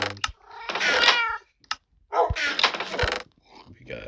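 Cats meowing in a snowy blizzard survival video game: two long, drawn-out meows, loud and close, separated by a short pause, with brief clicks around them.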